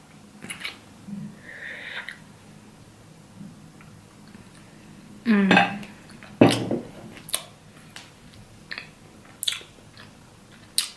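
Peanut butter being eaten with honey nearby: scattered moist chewing, wet lip smacks and a few sharper bites at irregular intervals, close and fairly quiet, with no talking.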